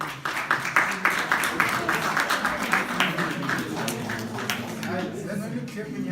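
Audience clapping at a university panel discussion, a steady dense patter of many hands throughout, with a voice speaking faintly underneath.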